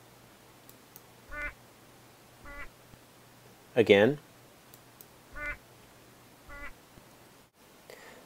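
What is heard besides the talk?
zebra finch song recording slowed to half speed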